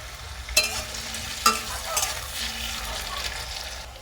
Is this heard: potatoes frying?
yes